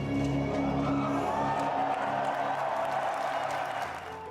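At BlizzCon the crowd roars at the World of Warcraft Shadowlands trailer, a dense wash of cheering and whooping from a large audience. It holds steady, then begins to fade near the end.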